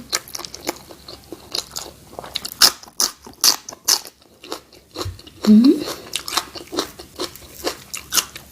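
Close, crunchy chewing and biting on a mouthful of spicy duck larb with fatty skin, giving irregular crisp crunches for several seconds, with a brief low murmur midway.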